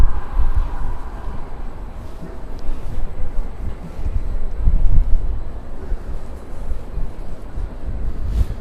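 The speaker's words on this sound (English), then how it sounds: "It is getting a little more windy up here too, so hopefully you guys don't pick that up" Wind buffeting a microphone high up on the Vessel at Hudson Yards in New York City, loud rumbling gusts that rise and fall continuously with no speech.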